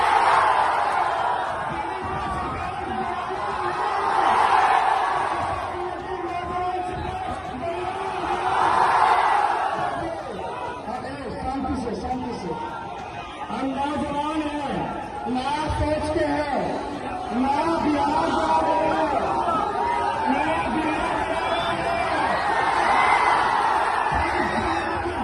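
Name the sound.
large crowd cheering at Tejashwi Yadav election rally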